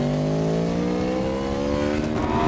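An onboard racing motorcycle at the Jerez de la Frontera circuit accelerates hard through the gears, its loud engine note climbing steadily in pitch from close up, with no talk over it.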